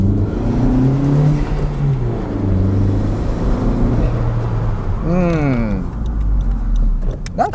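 A Honda FK7 fitted with a custom air intake accelerates along a road beside a wall that echoes the sound, its engine droning loudly and steadily and rising in pitch through the gears, with brief rapid pops near the end.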